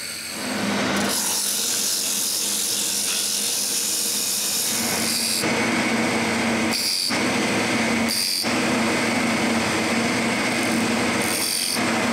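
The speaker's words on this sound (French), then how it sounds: "je perce un trou pour la tige filetée" A power drill bores a hole for a threaded rod into a wooden cylinder being shaped into a handle, a loud continuous whine broken by several brief pauses as the bit stops and restarts.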